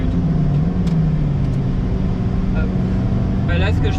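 Lotus Elise Cup 250, latest generation, running on a race track during a trackday, its engine a steady loud drone throughout with a voice talking over it.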